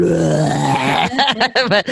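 A voice imitates a noisy reflux burp: a drawn-out guttural groan followed by choppy, gurgling bursts, close and loud.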